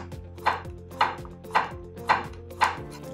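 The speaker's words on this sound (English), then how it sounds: "A Santoku knife has a straighter blade that makes chopping really easy." A Santoku knife slicing thin, precise cuts on a cutting board, five crisp evenly spaced chops in a steady rhythm, close and clear with no talking.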